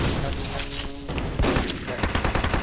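Rapid bursts of video game gunfire rattle loudly and continuously in the toy-themed shooter Toywars, with players' voices talking over the shooting.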